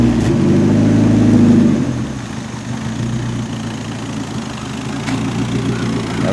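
A car engine cranks and catches, then settles into a steady, fairly loud idle with a low rumbling drone that runs alone to the end.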